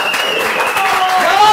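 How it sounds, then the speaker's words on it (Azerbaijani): A talk show audience claps loudly and steadily, dense applause continuing throughout while a voice carries faintly over the top. "Heç kimi belə alqışlamayıb."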